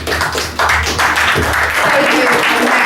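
An audience at a music and spoken-word performance breaks into sustained applause, a loud, dense wash of clapping with voices heard over it.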